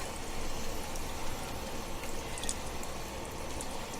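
Water poured into a cooking pot of ridge gourd curry with potatoes, a steady close splashing and trickling that runs without a break and stays fairly quiet, with no talking.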